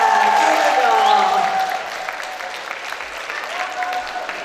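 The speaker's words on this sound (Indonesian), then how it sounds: "Tepuk tangan yang kencengnya mana buat Dr. Jessica?" An audience claps loudly for a speaker at a parenting talk event; the applause starts strong and dense, then thins and fades over a few seconds while a voice carries faintly underneath.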